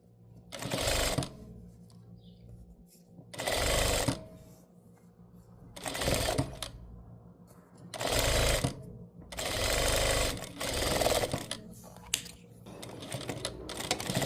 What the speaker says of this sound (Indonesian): dari rangkaian-rangkaiannya tadi aku gabungin dijahit